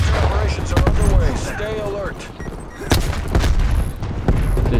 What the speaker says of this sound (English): we're gonna yeet the grenade back towards them and get the revenge kill